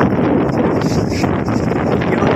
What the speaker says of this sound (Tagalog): Yung malakas ang hangin at malakas ang alon.